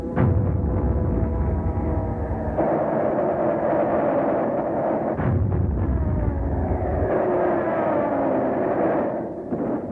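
World War II American carrier-based planes in battle at Midway, with a dense, continuous roar of aircraft engines mixed with booming explosions and heavy gunfire, loud and sustained for the whole stretch.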